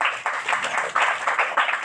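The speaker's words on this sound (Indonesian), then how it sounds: "Tepuk tangan untuk Anda" Audience applause at a scout orientation gathering in Surabaya, a steady wash of many hands clapping with uneven swells, fairly close and continuous.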